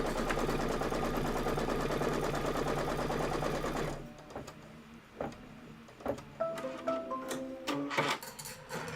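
An embroidery machine stitches background quilting with a steady, rapid mechanical whirr that runs for about four seconds and then stops, followed by scattered clicks and handling noises.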